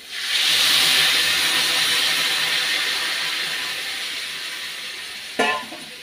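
Hot water poured into a cooking vegetable curry sets off a loud steamy hiss that slowly fades, with a short sharp clatter near the end.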